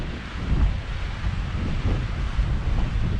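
Waves crashing against coastal rocks at Banyalbufar on the Mallorca coast, heard as a steady, loud wash of surf with low rumbling surges and heavy wind buffeting the microphone throughout.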